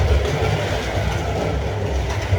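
A Carrera slot car runs on a painted plastic track, rattling and clattering against the rails in a continuous close, low rumbling chatter.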